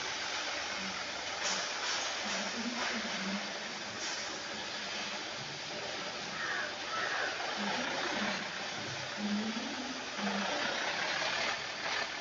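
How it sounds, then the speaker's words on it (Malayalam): A lorry engine idles in a driving video game with a low, steady rumble that holds for the whole stretch under quiet background hum, with a few brief tonal blips on top. "എൻജിൻ സൗണ്ടൊക്കെ പക്കയാണ്"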